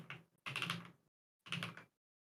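Keys on a newly built mechanical keyboard are pressed in quick clattering runs during a key test, with three close bursts of rapid clicks separated by short pauses.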